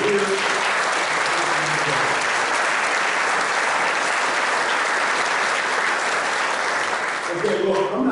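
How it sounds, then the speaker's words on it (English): Sustained applause from a sizeable crowd at a 2nd MEB reunion memorial brunch in Quantico, Virginia, dense clapping that holds steady throughout, with voices briefly audible near the start and end. "a round of applause for the people that work here."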